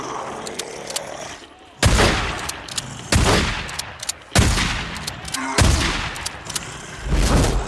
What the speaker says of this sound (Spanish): los tiros que lleva de escopeta, el bicho